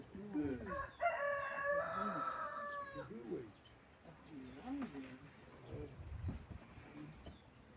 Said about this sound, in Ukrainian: і собаки гавкають, і півні співають